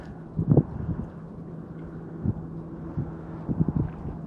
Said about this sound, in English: It has gotten really windy out here